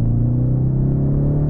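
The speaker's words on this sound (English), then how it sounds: "I'm going to go ahead and put it in track. Let's see how fast it is." A steady, loud low engine rumble from a 2019 Ford Mustang convertible with a four-cylinder engine, accelerating in track mode, heard close and continuous with no talk over it.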